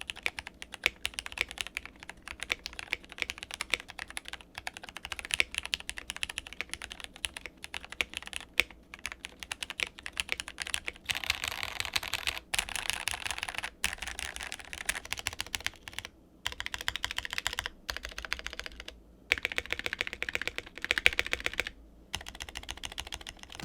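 Rapid, continuous typing on a TKL mechanical keyboard fitted with plate and case foam, the keystrokes close and crisp in uneven bursts with brief pauses, heard alone.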